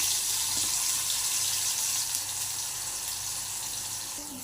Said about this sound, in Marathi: तेल गरम झाल्यावरती इथे मी कांदा आणि टोमॅटो एकत्र बारीक चिरून घेतलेला आहे